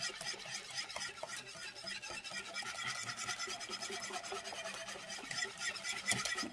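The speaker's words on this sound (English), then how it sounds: "It says to whisk until it's well combined and get the sugar dissolved" Chocolate ice cream mixture of whipping cream, sugar and hot chocolate mix with cocoa being whisked in a bowl, a steady scraping, rasping swish that runs continuously at close range with no talk.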